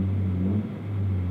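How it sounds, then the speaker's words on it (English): A 2017 Honda Civic Si turbo engine idling with a steady low hum, given a quick pat of the accelerator that brings a brief, slight rise and dip before settling back to a loud, even idle. "So we go give a little bit of fuel, pat the accelerator"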